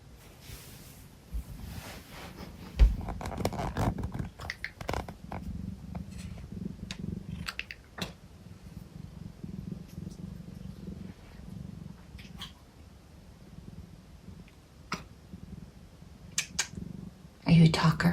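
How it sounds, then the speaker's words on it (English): A tiny cat purrs in a low, steady rumble, close and soft, with someone talking warmly over it for much of the stretch. "Can you guys hear her purring?"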